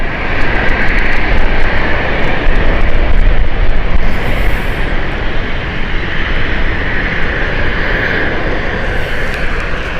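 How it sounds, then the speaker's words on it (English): An Icelandair Boeing 737 MAX jet roars loud and steady at an airport, a dense engine rumble with a hissing upper edge that holds for the whole stretch, no voices. "it's obviously the 737 MAX and not a 757"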